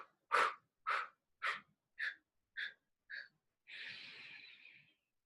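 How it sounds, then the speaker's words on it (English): Six short, forceful exhalations in a steady pulsing rhythm during a breathing exercise, each a little softer than the last, followed by one longer sustained breath out, close and clear with no talking. "filling up your lungs 3/4 of the way, and pulsating out for 8 strokes"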